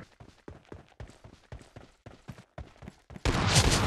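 Gunfire in the mobile battle royale game PUBG Mobile Lite rings out as a rapid series of sharp shots, about a dozen in quick irregular bursts, followed by a sudden burst of louder noise at the end.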